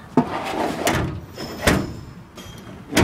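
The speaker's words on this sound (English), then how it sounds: "It pulled the other drawer out." Drawers of a Kennedy tool chest sliding out and shutting, giving several separate close clunks and rattles spaced about a second apart, with scraping metal travel between them and no talking.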